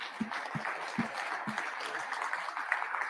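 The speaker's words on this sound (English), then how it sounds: "Round of applause, please." A conference audience applauds at the end of a talk, a dense spread of clapping with a few louder thumps near the start, fairly even in level throughout.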